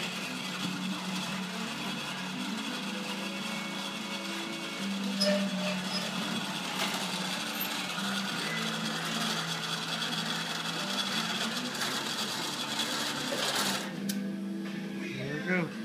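An electric lawn mower lift lowers with a steady mechanical whine and hum, running continuously for several seconds before cutting off near the end, with a faint clunk as it stops.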